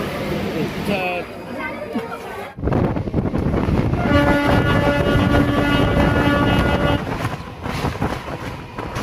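A MEMU local train from Howrah towards Puri rumbles along steadily with rattling carriages and a brief horn-like tone, people talking over the noise at the start.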